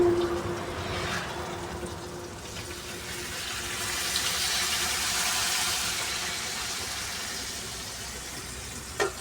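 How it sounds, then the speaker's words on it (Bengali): Water poured into a pot of nearly cooked vegetables, a continuous rushing, splashing flow that swells in the middle and lasts for several seconds, heard alone. "এবার একটু হালকা করে জল দেবো"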